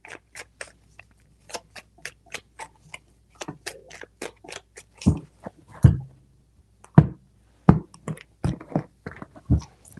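Tarot cards being shuffled by hand in a quiet room, with a run of short, sharp riffling clicks and card snaps, sparse at first and then denser and heavier, close up and with no voices.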